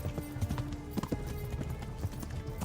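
Horse hooves clip-clopping at a walk in the video game Kingdom Come: Deliverance, an even rhythmic series of hoof thuds close by over a quiet outdoor ambience.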